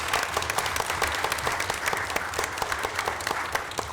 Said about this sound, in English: I would like to just take this time really quick to just applaud the women up here who make a difference in this community.